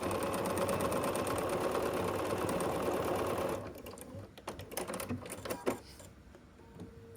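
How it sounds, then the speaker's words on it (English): Sewing machine stitching fabric pieces of a quilted Dresden plate Christmas ornament, a fast steady whirring run for about three and a half seconds, then stopping, followed by soft handling clicks and rustles. "fold it in half and match up just like you did before and sew along this side"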